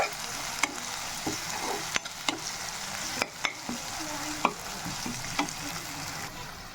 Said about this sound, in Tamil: இஞ்சி பூண்டு வதக்கத்தில் இதுக்கு ஒன்று அடுப்பை குறைச்சி வச்சு வதக்கிக்கலாம்.